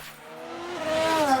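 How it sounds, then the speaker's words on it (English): A brief tyre lockup squeal in the F1 Manager 2022 racing game rises into a thin whine over about a second, alone and fairly faint. "Was that a lockup on the track?"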